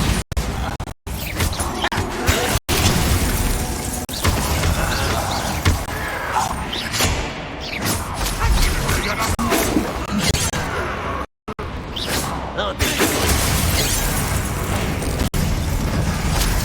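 Bombarda blasting spell explosions in Hogwarts Legacy, loud booming crashes and shattering bursts layered over dense game combat noise for most of the stretch, with brief silent gaps between.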